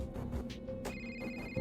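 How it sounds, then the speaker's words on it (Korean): A telephone rings with steady repeated electronic tones, moderately close, over a low background hum, with no talking. "전화벨 소리에 깨어났다"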